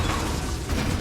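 An Incendio fire spell cast in the Hogwarts Legacy video game on PS5, a short dense burst of low roaring, whooshing noise filling about a second, loud and close with no speech.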